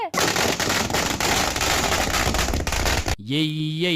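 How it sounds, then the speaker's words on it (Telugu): Dense, rapid crackling bursts of firecrackers going off nonstop near a station for about three seconds, loud and close, then abruptly giving way to a tonal sound. "టపటపటపటపని టపాకాయలు జోరుగా వేల్చిండ్రు"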